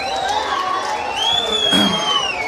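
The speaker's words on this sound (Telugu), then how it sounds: "అందరూ కూడా చప్పట్ల ద్వారా స్వాగతం పలకాల్సిందిగా తెలియజేస్తూ ఉన్నాను" A political rally crowd cheering and whooping to welcome a leader onto the stage, loud and continuous, with shrill shouts and whistling-like cries rising over a dense roar.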